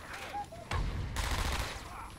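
Gunfire crackles in a short burst of rapid shots in Batman: Arkham Asylum, loud and close, over game noise and brief tonal effects.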